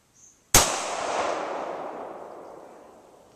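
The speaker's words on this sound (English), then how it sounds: "First shots, Rigger LCRx 38 Special." A single sharp, loud gunshot from a Ruger LCRx .38 Special revolver firing 130-grain Remington or 148-grain wadcutter rounds, close by with a crack and a long echoing decay, preceded by a faint brief tone.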